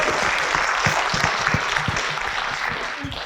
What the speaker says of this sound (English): Let's give one more round of applause to our panelists.